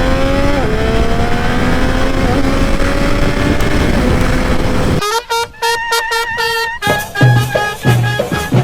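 An MV Agusta F3 800cc motorcycle engine holds a steady loud drone, then breaks into choppy revving bursts and blips with sharp gaps between them, close by.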